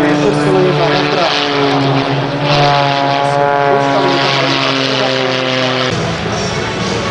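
A biplane's propeller engine drones steadily at an airfield, loud and close with a strong harmonic whine that shifts pitch slightly near the end, while a commentator talks over it.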